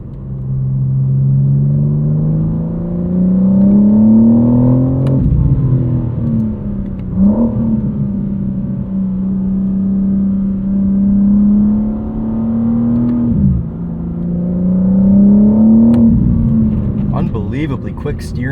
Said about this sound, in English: There goes the new M5.